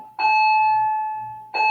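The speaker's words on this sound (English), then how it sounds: "There's the bell." A school bell in a classroom gives a steady, sustained electronic tone with a sharp onset, holds for over a second and fades slightly, then strikes again at the end.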